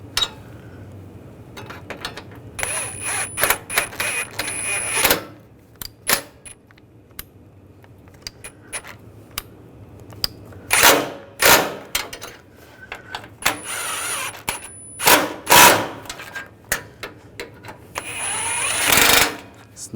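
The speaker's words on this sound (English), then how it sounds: "we're going to tighten down the bolts" Bolts on a 2014-2019 Toyota Corolla hood latch being snugged down with a hand tool, giving scattered clicks and short metallic ratcheting bursts in uneven clusters, close and fairly loud, with quiet gaps between.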